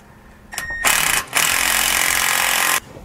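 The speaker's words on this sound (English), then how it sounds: "For the button head bolt, we're going to be using a 7/32 Allen and a 9/16 socket to hold the nut." A button head bolt on a Roadmaster rear anti-sway bar for a 2018 Thor is tightened with a 7/32 Allen and a 9/16 socket, making a short loud buzzing burst followed by a sustained, harsh rattling drive.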